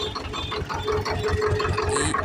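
A 1999 Swaraj 733 FE tractor with a two-piston engine runs at idle nearby, making a steady, rhythmic chugging knock with a faint metallic whine above it.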